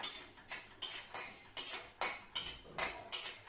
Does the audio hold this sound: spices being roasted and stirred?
yes